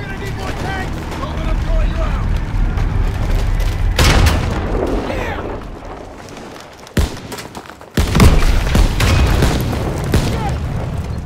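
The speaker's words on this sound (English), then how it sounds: "I think they're returning fire." Enemy gunfire and booming blasts from the Call of Duty WW2 video game, set in the Battle of the Bulge, rumble loudly with sharp cracks among sustained battle noise and speech.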